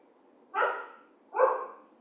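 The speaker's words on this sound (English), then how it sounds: "You're going to hear my dogs barking in the background." Two separate dog barks sound from another room of a home, evenly spaced and moderately loud against near-silence, with no one talking.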